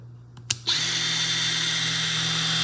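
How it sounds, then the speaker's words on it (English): A Snap-on long reach inline brushless die grinder fitted with a flap wheel clicks, then spins up into a steady, loud, high whine that holds evenly at close range. "So this is the new long reach inline die grinder."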